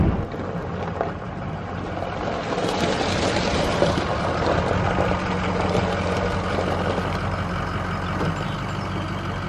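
A cheap used Ford F350 pickup, bought as a farm woodlot truck, runs with a steady low engine rumble and drone, loud and close, holding an even level throughout with no talk over it.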